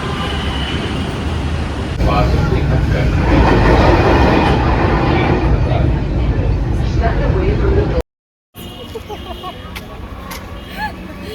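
A Delhi Metro train at a metro station rumbles and hisses loudly and steadily for several seconds, then after a brief cut a quieter station ambience with scattered clicks continues.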